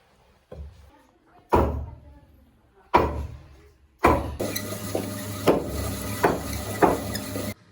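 Meat being chopped with sharp, heavy blows, about five or six distinct impacts spaced roughly a second apart and getting busier toward the end, close and fairly loud with some clatter between strikes.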